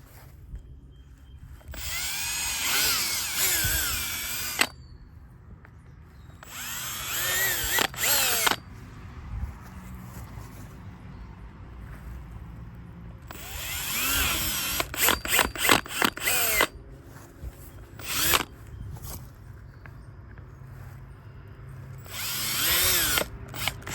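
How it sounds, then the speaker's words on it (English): A power drill bores holes in the corners of new house shutters, sounding in several loud bursts of whirring with quiet gaps and a few short stuttering pulses in between. "So our first task is going to be drilling the holes in the corners."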